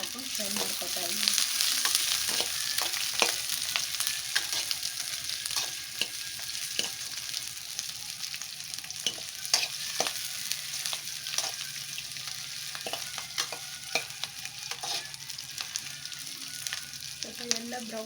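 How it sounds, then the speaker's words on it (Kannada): Onion, ginger and garlic frying in a pan, a continuous close sizzle broken by frequent scraping stirs and small pops for the whole stretch, with no talking. "ಈರುಳ್ಳಿ, ಶುಂಠಿ, ಬೆಳ್ಳುಳ್ಳಿ ಹಾಕೊಂಡು ಫ್ರೈ ಮಾಡ್ಕೊತಾ ಇದ್ದೀನಿ."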